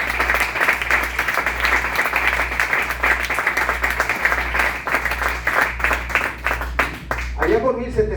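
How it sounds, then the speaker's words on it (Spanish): A church congregation at a Sunday service applauds steadily throughout, dense sustained clapping from many hands in a reverberant hall, with a low continuous hum underneath. "Vamos a dar un aplauso al Señor."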